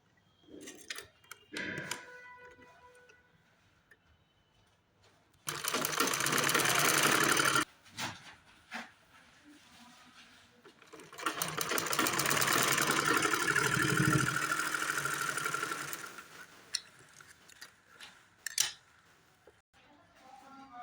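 A sewing machine stitches the hem of a pajama in two long, steady whirring runs, loud and close, separated by quieter pauses with handling noises and a brief clunk near the end.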